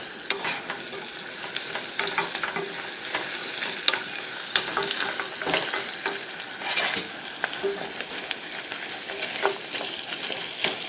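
Food frying in a pan with red and black pepper is stirred continuously, giving a steady close sizzle broken by frequent scraping and clicking strokes from the utensil.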